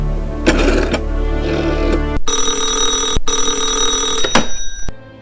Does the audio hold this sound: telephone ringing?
yes